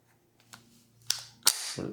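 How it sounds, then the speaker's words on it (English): A Ruger Mark IV pistol's bolt drops with a sharp metallic snap, followed by a second louder clack and brief rattling handling noise, all close up in a quiet room. "Drop the bolt."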